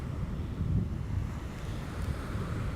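Steady roar of surf breaking along a shore, with gusty wind rushing across the microphone throughout.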